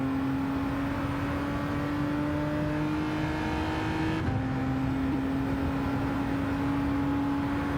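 A Gr.4 race car in Gran Turismo 7 drones around Suzuka, its engine holding a steady high whine at sustained speed with one brief drop and shift midway, loud and continuous.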